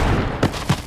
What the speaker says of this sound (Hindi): गोली चलने की आवाज पूरे जंगल में गूंज उठी